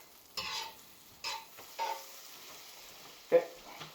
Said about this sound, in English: Oh yeah, good sizzling action.